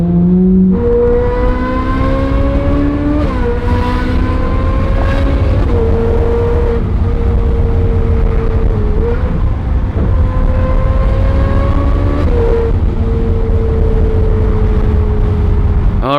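A Ferrari 458 engine idling steadily with a smooth, slightly droning tone, its pitch drifting up and down in small steps throughout, close and fairly loud.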